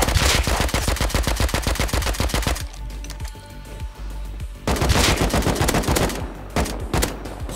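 AK rifle fire in the Rust survival game: loud, rapid automatic bursts of closely spaced shots, a brief lull in the middle, then another sustained volley, with no talking.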